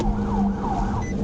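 An Arkansas state trooper's police car siren wails in rising and falling sweeps during a pursuit through a residential area, loud and close over road and engine noise.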